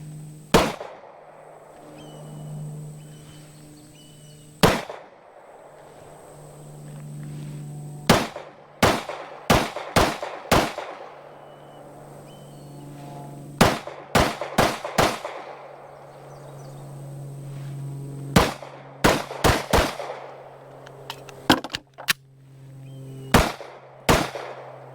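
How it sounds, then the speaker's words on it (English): A handgun on an outdoor shooting range in Wagram, North Carolina, fires sharp, loud single shots, sometimes spaced and sometimes in quick clusters, with some echo and a low steady hum underneath. "fire a couple just to see, hey, get used to the feel of the gun"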